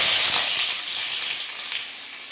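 Onions sizzle as they drop into very hot oil in a pan, a steady, loud, hissing fry for chicken korma that carries on evenly with no talk.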